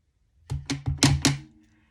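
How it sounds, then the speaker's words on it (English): A rubber stamp thumps onto card paper in five quick, close knocks in a steady rhythm, each a short dull thud, with no voices. "I'm stamping, I'm going to get everything stamped."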